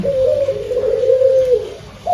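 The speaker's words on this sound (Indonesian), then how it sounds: "burung puter pelung adalah burung jenis anggungan ya" A puter pelung dove gives a long, drawn-out, close and loud coo lasting about one and a half seconds, followed by the start of another coo, with no talk.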